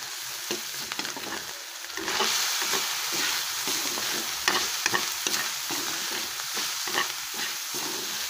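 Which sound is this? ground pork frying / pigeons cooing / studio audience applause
ground pork frying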